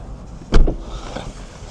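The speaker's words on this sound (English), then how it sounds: "Let's close the door real quick." A single solid thunk as the door of a McLaren 720S Performance Spider supercar shuts from inside the cabin, close and brief, followed by a quiet interior with faint low rumble.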